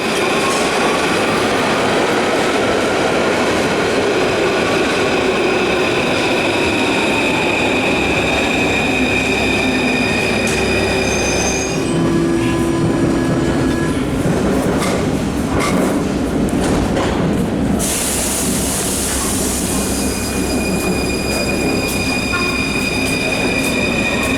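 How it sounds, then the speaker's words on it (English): Paris metro or RER train ride from Gare du Nord: a steady loud rumble of rail cars with clickety-clack wheel noise and squealing wheels, plus some high whines and a shift in the noise partway through. "we're going to go and catch the metro at Gare du Nord, and then we'll jump on the RER"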